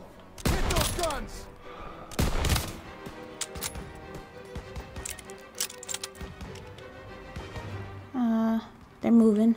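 Call of Duty WWII battle with soldiers firing at flak guns: a few loud sharp gunshots early, then scattered lighter shots and clatter, with voices talking in the mix.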